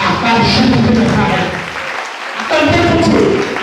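Worshippers at a French-speaking Christian gathering applaud and cheer for Jesus: loud, sustained clapping swells, dips briefly around the midpoint, then surges back just as strong.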